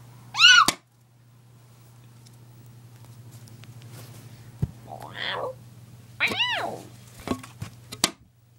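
Cat gives a few distinct meows close by: a sharp one at the start, a softer one mid-clip and a longer wavering one near the end, over a low steady hum with light rustling.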